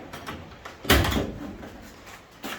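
A Ford Falcon XB coupe door under restoration, fitted with new door skins and no seals, swings shut with one solid thump followed by a brief rattle. Faint handling noise comes before and after.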